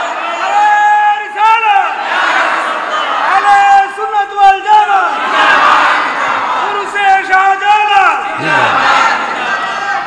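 A large crowd at a Bengali religious sermon shouts the takbir chant in unison, with repeated loud waves of massed voices rising and falling every couple of seconds.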